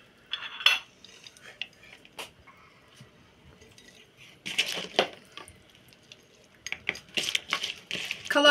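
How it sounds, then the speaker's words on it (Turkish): Glass jars of red cabbage pickle being capped, with scattered clinks and metallic clatter of lids and jars, louder bursts of handling toward the end. "Şimdi en son kavanozlarımın kapaklarını koyacağım."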